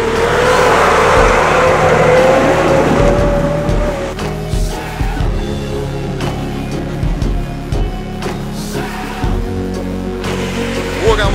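Lada Niva off-road race car engine revving hard with a rising whine for several seconds, then dropping into uneven, bumpy engine bursts and knocks as it heads into a turn, close and loud.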